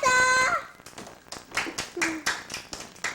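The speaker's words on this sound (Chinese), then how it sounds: "一起拍手" Children's voices chatter and sing briefly, then a series of sharp hand claps follows in an uneven rhythm, close by.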